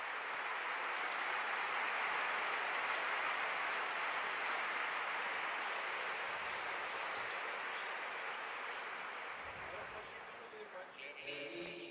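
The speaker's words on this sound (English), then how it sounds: "I'd like to ask you to applaud her, to welcome her" An audience applauds to welcome Professor Claire Ly, a Cambodian who teaches Buddhism in Marseille, at a testimony event: a dense, steady wash of clapping that holds loud and even for about eleven seconds, then thins slightly near the end.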